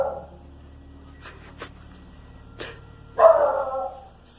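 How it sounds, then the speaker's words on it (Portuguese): A dog barks nearby in a home backyard: one short bark at the start, a few faint clicks and knocks, then a louder, drawn-out bark near the end, with no talk. "Tem um cachorro."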